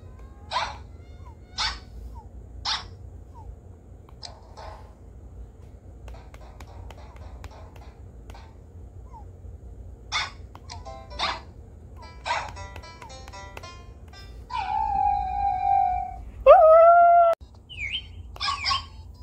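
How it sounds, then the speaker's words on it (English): Nintendogs puppies on a 3DS give short, very high-pitched electronic yips in scattered bursts, some quick double barks, ending with a few longer whiny tones, over faint background hum and no clear talk. "Look how high-pitched I got them to bark"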